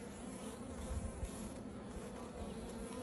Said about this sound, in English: The birth of a bee. Right in front of our eyes.